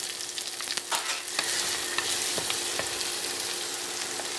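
Sliced onion and curry leaves sauté in a clay pot for a Sri Lankan country chicken curry, giving a steady close sizzle broken by scattered clicks and scrapes of stirring, with no voices.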